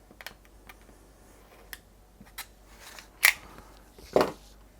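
Scissors snip through fabric for a curved clamshell quilt block, faint scattered ticks and clicks, then two louder distinct cuts near the end, quiet with no talk.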